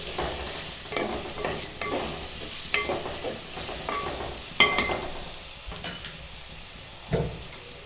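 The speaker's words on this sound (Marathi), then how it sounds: "बटाट्याला चांगलं तेलात परतून घ्यायचं" Potatoes sautéing in oil with a vegetable dish, a soft continuous sizzle beneath repeated scraping and stirring strokes of a spatula against the pan, close and steady with no voices.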